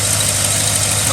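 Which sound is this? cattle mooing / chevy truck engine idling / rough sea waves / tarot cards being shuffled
chevy truck engine idling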